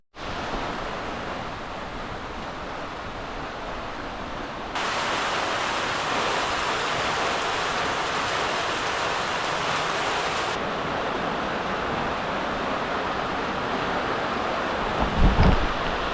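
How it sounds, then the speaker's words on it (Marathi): Heavy monsoon rain pours down in Konkan among dense trees, a loud, unbroken roar of falling water that swells midway, with a brief low rumble near the end. "पावसाचा आवाज ऐकू शकता एवढा जोरात पाऊस आला आहे"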